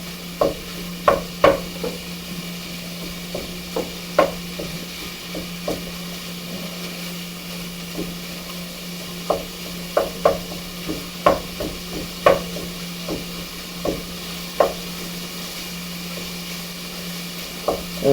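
Ground sausage browns in a pan while a utensil scrapes and stirs it, giving irregular sharp taps and scrapes over a faint steady sizzle and a low hum, with no voices.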